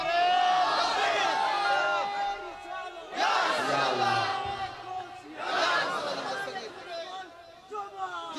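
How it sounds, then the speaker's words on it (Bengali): A large crowd at a religious gathering shouts a takbir together in three loud, surging call-and-response bursts. The shouts are full-throated and close, with a brief voice leading in before each roar. "আমার আল্লাহকে একটা জোরে তাকবীর হবে"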